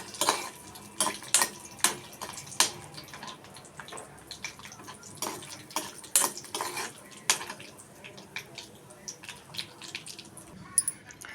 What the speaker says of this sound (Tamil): நெய்யில் இந்த முந்திரியை வறுத்துக்கணும்